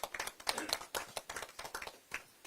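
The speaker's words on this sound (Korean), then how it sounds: "환영의 큰 박수로 김상욱 의원을 맞이해 주시기 바랍니다" Audience at a South Korean Democratic Party election campaign committee meeting claps to welcome a lawmaker, a faint, loose patter of individual hand claps over a couple of seconds.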